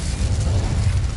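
Incendio fire spell cast in Hogwarts Legacy video game, a short, loud, dense whooshing burst of flame with a deep rumbling body, lasting about a second.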